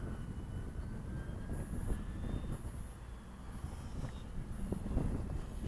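Steady gusting wind rumbles and buffets the microphone at an outdoor RC flying field while an FMS 2000 Beaver model plane flies, with a faint distant motor hum behind the low roar. No one speaks.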